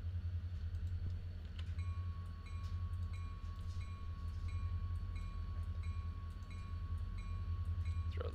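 A train rolls along the track in a railroad operations video game, with a steady low rumble and rhythmic clacking that continue throughout, plus faint repeating mechanical tones above.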